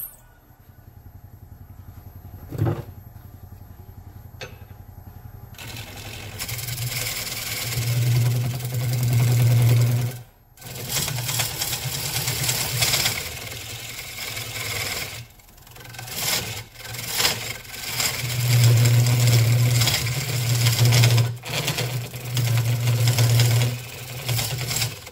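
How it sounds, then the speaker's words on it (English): A wood lathe turning a salad bowl from glued-up 1x4 boards gives a steady mid-pitched motor hum with rough scraping and rubbing from the tool, swelling and fading in bursts, with a few brief pauses. "I love doing the lathe, so it's all a learning experience."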